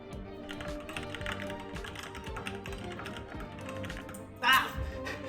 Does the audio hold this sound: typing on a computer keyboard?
yes